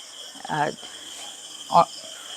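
Crickets keep up a steady, high continuous drone in the background, with two short bursts of a voice over it.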